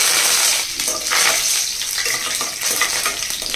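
Cumin, dried red chillies and curry leaves frying in hot oil, a dense continuous hiss and crackle of spattering, close and fairly loud, with no one speaking.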